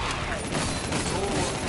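Gunfire from a player's gun in a zombie shooter video game, buried in a dense, steady wash of loud game noise with no clearly separated individual shots.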